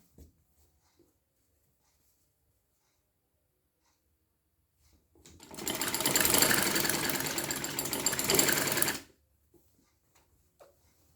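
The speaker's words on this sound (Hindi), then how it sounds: "तो मशीन में आप स्टिचिंग देखें किस तरह से हो रही है इसकी" A sewing machine stitches a collar neck in one steady burst of a few seconds, fairly loud and close, with near silence before and after.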